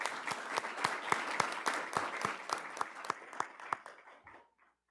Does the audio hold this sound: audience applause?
yes